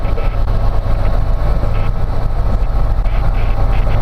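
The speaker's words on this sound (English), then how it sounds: "It's a nice little flyover for us. That's a C-130." A C-130 cargo plane flies over near the Royal Gorge, heard from inside a helicopter as a steady, loud low engine rumble and drone that holds without a break for the whole stretch.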